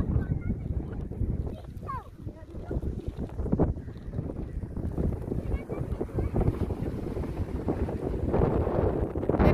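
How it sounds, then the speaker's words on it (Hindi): Steady wind buffets the microphone at a Sydney beach, a continuous low rumble with gusts, while someone talks over it throughout. "अभी आप देखें कितनी हवा चल रही है"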